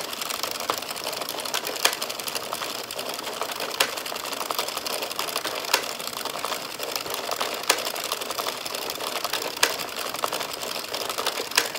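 An Addi or Sentro circular knitting machine is cranked through several rows of waste yarn, giving a steady rapid mechanical clatter with regular louder clicks, close and unaccompanied by talk.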